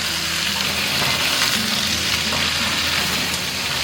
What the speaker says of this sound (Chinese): 就煎虾的话，要是中火煎